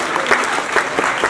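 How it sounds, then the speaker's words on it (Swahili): Church congregation breaking into applause after a sworn vow, a loud dense burst of many hands clapping close by for about a second. "Wapige makofi."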